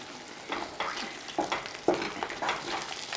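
Karachi halwa cooking in ghee in a pan is stirred with repeated scraping strokes and a soft sizzle, close and moderately loud, several strokes in a few seconds.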